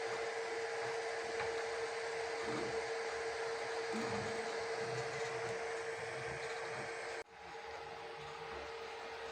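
A Flsun V400 3D printer running, a faint steady mechanical hum with a constant tone and light whirring motion, which drops abruptly in level near the end and continues quieter.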